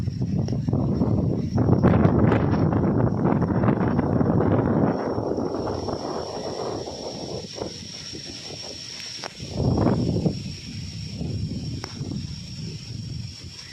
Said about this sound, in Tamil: பேய் காற்று மாதிரி அடிக்குது காற்று